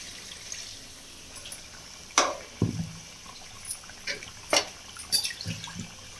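Water splashes and pours in short bursts over soaked murrel (viral) fish for a curry, with drips and sloshing, close by in a quiet room.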